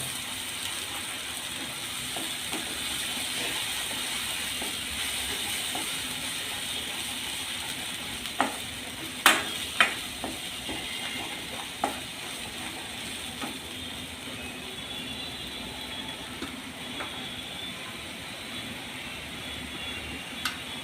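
Potato bhaji sautés in a pan, a faint steady sizzle with a few sharp scraping clicks of a spoon against the pan scattered through the middle, no talk.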